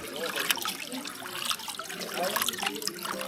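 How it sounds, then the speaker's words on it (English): Drinkable spring water running from a village fountain in Alsace, France, a steady close splashing and gurgling stream at moderate volume, continuous with no talk. "So this is spring water that you can actually drink if you want."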